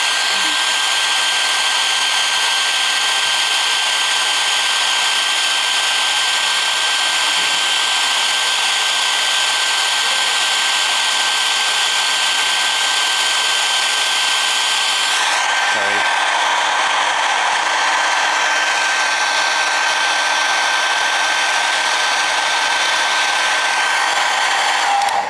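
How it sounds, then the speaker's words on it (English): A hair dryer blasts a steady, loud whine and rush of air close by, drying a coat of paint on a miniature model built for film, then cuts off at about fifteen seconds and leaves a quieter hum. "So, just blow dry it."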